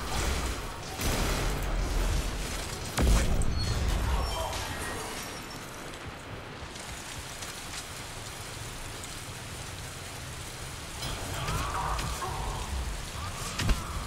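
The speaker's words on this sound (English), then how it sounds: "nope, it's the damaging rain" Damaging rain in Mass Effect multiplayer, a dense hiss of falling rain with patter on surfaces and a brief whoosh, steady and fairly loud throughout.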